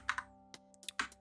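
A few quick keystrokes of code typing on a computer keyboard, close and quiet, in short irregular clicks with brief pauses.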